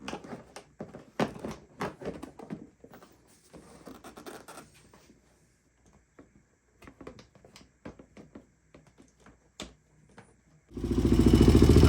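A 1986 HRC XR628R dual-carb motorcycle with poorly tuned carburettors: scattered clicks, scrapes and taps, then the engine bursts loudly into a rough, steady run near the end.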